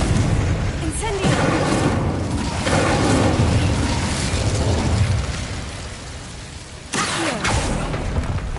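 Spell blasts from Confringo and Incendio in Hogwarts Legacy: a dense, roaring run of booming bursts that carries on loudly for several seconds, easing off and then flaring again with a sharp hit near the end, with game voices mixed in.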